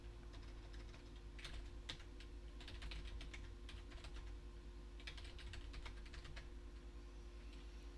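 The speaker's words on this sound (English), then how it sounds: "this is what you were doing all the time when you were using these systems, was just type in like a madman" Fast, continuous typing on a computer keyboard at a DOS system, a quiet stream of rapid key clicks in quick bursts with brief pauses, heard against a steady low background hum.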